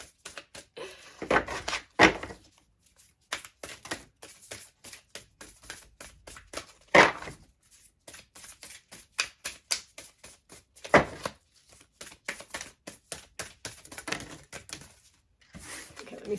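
Tarot cards being shuffled and pulled, making repeated quick papery riffles and soft slaps in irregular bursts, close by, with a few louder flicks now and then.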